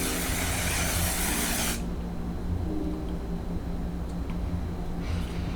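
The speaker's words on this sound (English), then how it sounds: "I'm gonna go in with my One Size setting spray right here. This is the mattifying one." A One Size mattifying makeup setting spray releases one long, close, loud hiss for nearly two seconds, and then quiet room tone follows.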